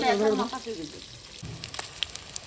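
Steady crackling sizzle of snakehead fish frying in oil, with scattered pops, following a brief voice at the start.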